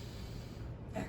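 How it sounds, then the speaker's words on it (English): A single deep breath drawn in through the nose during a yoga session for back pain, a short close airy inhale that swells at the end, no talk. "Deep inhale through the nose."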